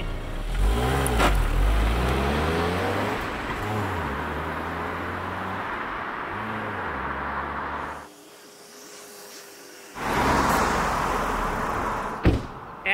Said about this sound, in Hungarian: Na nézzük azt az elindulást,